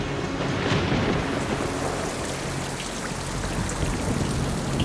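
Steady, dense rainfall standing in for cold methane rain on Titan, a continuous loud wash of drops with low rumbling underneath, no voices.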